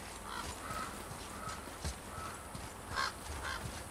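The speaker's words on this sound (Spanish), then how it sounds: "Oigo cuervos." Crows caw in the God of War video game, a few scattered calls sounding at middle distance over a soft, steady ambient background.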